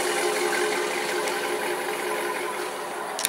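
A 2004 Chevrolet Silverado 2500 4x4 V8 engine idles close by with factory exhaust, a smooth, even rumble with a light mechanical rattle running throughout, no voices.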